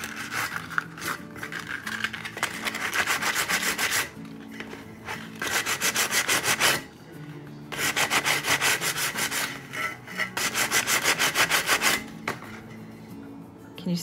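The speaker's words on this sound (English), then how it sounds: "I'm gonna take a little sandpaper here and we're just gonna rough up so we can expose that detail" Sandpaper rubbed back and forth over wood to distress a thrift-store decor piece, rhythmic rasping strokes in three long bursts with short pauses between, close and loud.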